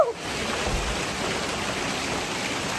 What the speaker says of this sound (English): This is the hardest hailstorm I've ever seen out here.